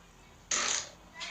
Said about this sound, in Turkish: Onu yaptı osurdu mu?